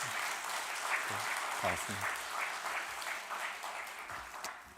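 A church congregation claps at a New Year's first worship service, steady dense applause throughout while someone speaks over it.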